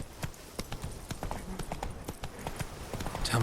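Horse hooves clip-clopping in a steady trotting rhythm in The Witcher 3: Blood and Wine, close and clear over a low game ambience, with a brief sharp effect near the end.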